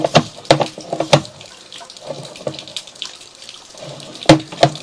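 A sewer scope camera dips underwater inside a septic tank, giving close sloshing, gurgling water with sharp splashy bursts near the start and again toward the end.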